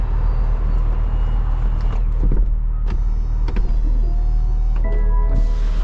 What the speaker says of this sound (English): Let's see the top, so let's see how long it takes for top up.